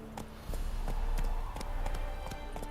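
Roach, the horse in The Witcher 3: Wild Hunt, gallops with rapid rhythmic hoofbeats thudding close and loud over a low game rumble.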